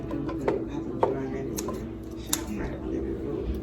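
Knife chopping sausage into bite-size pieces on a board, a few sharp, sparse cuts close by under a person talking.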